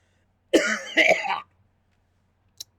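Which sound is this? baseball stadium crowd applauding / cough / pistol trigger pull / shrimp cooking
cough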